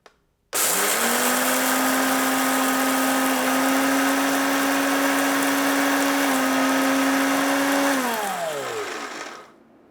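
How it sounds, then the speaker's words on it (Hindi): An Orpat 1200 watt mixer grinder grinds whole coriander seeds, switching on abruptly into a loud steady high-pitched whine for about seven seconds, then the motor pitch drops as it winds down. "ये ऑरपेट का 1200 वॉट का मिक्सर ग्राइंडर है। इसको ऑन करते हैं।"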